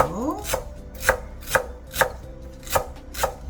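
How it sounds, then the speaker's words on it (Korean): A knife chops fresh garlic chives on a cutting board into short pieces, landing about seven crisp, evenly spaced thuds close up. There is no voice. "부추는 한 2cm 간격으로 썰어 주세요"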